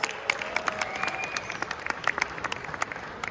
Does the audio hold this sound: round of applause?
yes